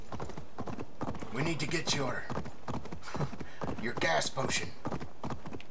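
A horse's hooves clip-clop steadily in an Assassin's Creed Valhalla game, a rhythmic walking beat that runs under someone talking throughout.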